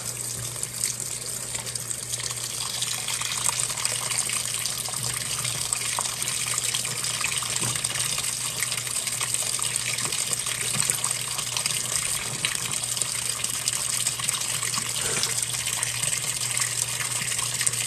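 A washing machine filling with water, a constant rushing gush with a steady low hum underneath, loud and unchanging throughout, with no talking.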